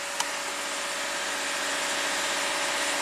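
A 2015 Lexus IS250 V6 idles with a steady, even mechanical hum that rises slightly in pitch and loudness as the idle climbs, starting with a faint brief tick and no voices.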